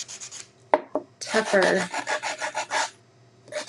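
Sandpaper rasping against a wooden paintbrush handle, a run of quick back-and-forth scuffing strokes up close, with a brief pause and a few more scrapes at the end and a word of speech in between.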